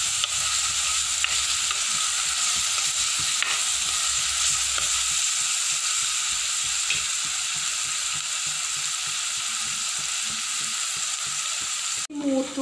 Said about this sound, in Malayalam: അപ്പോൾ ഇത് മൂക്കുന്നത് വരെ ഒന്ന് വഴറ്റി കൊടുക്കണം.